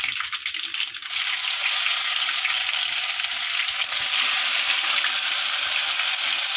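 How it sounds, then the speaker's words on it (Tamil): Curry leaves fry hard in hot oil, giving a loud, steady, close-up crackling sizzle that runs unbroken, with a brief stir near the start. "கருவேப்பிலை நல்லா பொரிஞ்சதுக்கப்புறம் நம்ம அதை அப்படியே அள்ளி சேர்த்துடலாம்"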